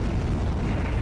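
A volcano's lateral blast at Mount St. Helens, heard as a dense, continuous low roar that rumbles at steady loudness throughout, with no voices.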